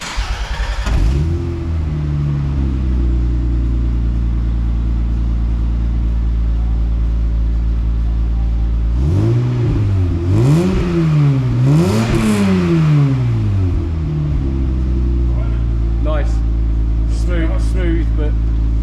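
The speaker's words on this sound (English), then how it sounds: "So I think the car should be started up." An MG ZT 190 V6 engine cranks and catches, then settles into a steady, deep idle close by, with a couple of rising revs midway and a faint voice near the end.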